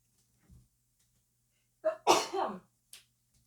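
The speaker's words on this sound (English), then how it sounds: "Oh my God, I have to sneeze." A single sharp sneeze close up, preceded by a quick inhaling gasp, in an otherwise quiet room.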